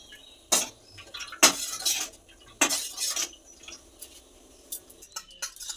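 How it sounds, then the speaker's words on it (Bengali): Spoon beating an agar agar powder mixture to thicken it, irregular bursts of clinking and scraping strokes against the bowl, close, loud at first and then lighter and more scattered taps, with no voices. "এইভাবে ফেটিয়ে ফেটিয়ে ঘন করে নেব।"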